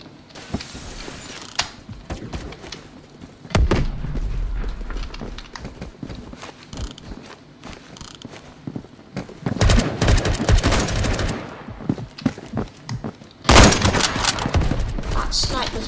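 An SKS rifle fires repeatedly in Phantom Forces, with loud close semi-automatic bursts and mechanical reload clatter amid running footsteps and other distant gunfire.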